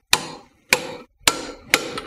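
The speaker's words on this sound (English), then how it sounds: "we use wrench so we can tighten it in correct torque" Four sharp metallic impacts, evenly spaced about half a second apart, ring out close and loud as a wrench works a brake caliper bolt on a BMW E46 330Ci; each strike decays quickly into brief silence.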